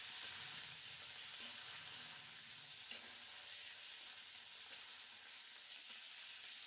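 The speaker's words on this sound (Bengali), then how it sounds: "এরপর ওই একই তেলে দিয়ে দিচ্ছি ধনেপাতা কুচি, দিয়ে আমাদের কিছুক্ষণ একটু নেড়ে নিতে হবে।" Chopped coriander leaves fry in hot oil with a constant bright sizzle, punctuated by a few soft scrapes as a spoon stirs the pan; no voices.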